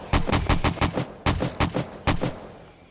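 Rapid bursts of gunfire in the 7 Days To Die survival game, a fast string of loud close shots, then a short pause and a few more sharp reports trailing off.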